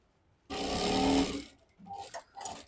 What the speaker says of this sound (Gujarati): તો આપણે આ સિલાઈ મારી દઈએ.